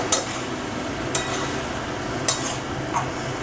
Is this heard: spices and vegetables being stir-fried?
yes